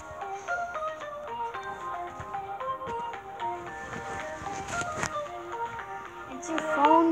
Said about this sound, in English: It's your phone, mommy.